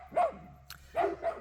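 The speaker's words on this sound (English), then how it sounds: "she barks at the ravens that fly overhead" A homestead dog in California lets out two short barks with a softer yip between, close and fairly loud, with quiet outdoor air behind.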